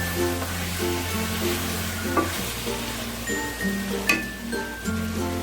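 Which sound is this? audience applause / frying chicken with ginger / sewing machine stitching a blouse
frying chicken with ginger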